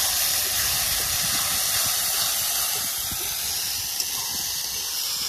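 Onion with ginger-garlic paste sizzling steadily in a pan as it is stirred, cooked outdoors beside a village pond; a continuous close, loud hiss with faint scraping and no talk.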